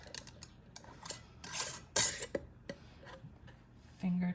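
Metal ring being screwed onto a canning jar lid for canning ground beef, heard as a run of light scraping and clinking metal-on-glass sounds, close by, with a brief louder rasp near the middle and a short hum at the end.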